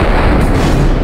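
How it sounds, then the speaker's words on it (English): A grenade explosion in the Max Payne video game hits as a loud, dense burst of roar that fills the whole moment without a break. "We all know it's probably a goddamn grenade."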